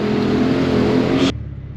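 BMW E90 pulling hard with its windows down, a loud, steady engine roar with wind rush that rises and then cuts off abruptly near the end, leaving a softer idle-like hum.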